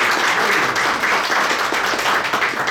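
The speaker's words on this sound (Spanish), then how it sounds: "Un aplauso." Live podcast audience clapping in a hall, sustained and fairly loud with a slightly rhythmic rise and fall in the hand claps, and no voices over it.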